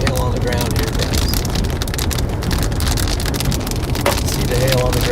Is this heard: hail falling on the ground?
yes